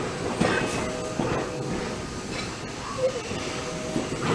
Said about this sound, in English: No, that is a dang freight train